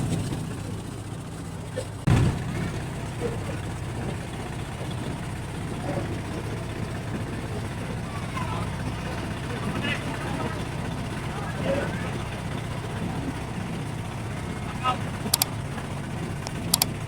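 A motorized trawler boat chugging along the Padma river near the Padma bridge, its engine a steady low drone throughout, with someone talking over it and a few brief knocks.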